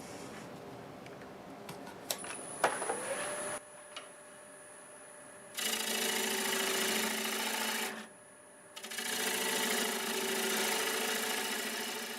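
A wood lathe turns a birch blank riddled with wormholes, with a tonal motor whine and long bursts of loud, rough tool-cutting noise that stop and restart.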